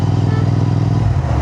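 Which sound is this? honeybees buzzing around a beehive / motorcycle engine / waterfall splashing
motorcycle engine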